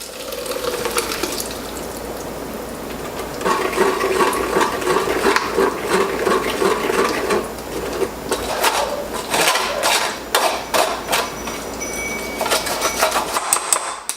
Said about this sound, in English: Now that our sauce is blend, we're gonna strain this.